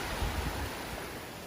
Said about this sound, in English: So already the waves are picking up a little bit